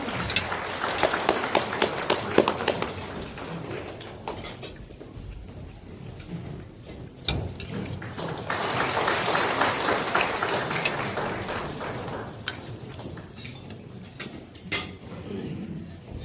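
Steady applause from an audience at a manufacturing innovation forum at Kumoh National Institute of Technology in Gumi, a dense, moderately loud patter of many hands that rises and falls over the stretch.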